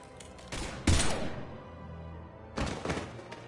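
Gunfire in Mass Effect 2 comes as two separate loud bursts of rapid shots with a heavy booming impact early on, separated by a lull of lower rumble.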